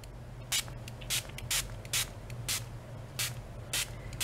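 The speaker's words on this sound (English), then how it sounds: "So I'm going to spray." A spray bottle hisses out about eight short bursts at an uneven, quick pace, close by, over a faint low background hum.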